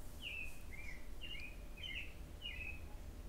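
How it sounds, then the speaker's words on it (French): Birdsong rises over a quiet ambient hum, with five clear, bright chirping phrases spaced fairly evenly, each a quick twittering burst, sounding moderately close and unaccompanied by voices. "J'adore entendre le chant des oiseaux."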